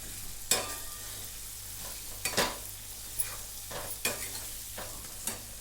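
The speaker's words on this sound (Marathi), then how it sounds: "कढीपत्ता परतून घेऊ." Curry leaves fry and crackle in hot oil in a pan while a spoon stirs them, giving a steady sizzle broken by several sharp scraping clinks, close up and with no talk.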